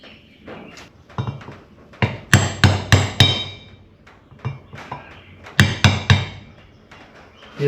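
A hammer taps a PTO part into place during reassembly of a Farmall H tractor, striking metal close by in quick bursts of three to four sharp ringing blows separated by lighter taps and pauses.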